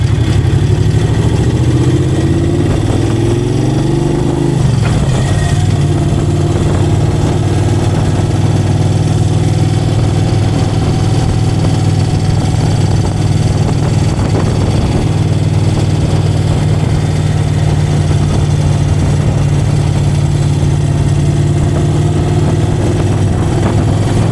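The engine of a 2001 Moto Guzzi EV80 Anniversary motorcycle drones loud and steady on a ride, with a low pulsing note and a pitch shift early on, heard with no talk.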